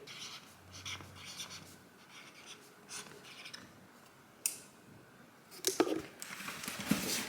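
A pen writes on a surface while new product packaging is being signed, giving soft, quiet scratching strokes that end with a few sharper taps and rustles.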